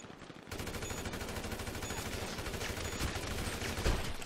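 Sustained rapid automatic gunfire in GTA 5 starts after a brief quiet moment and rattles on steadily, with a heavier burst near the end.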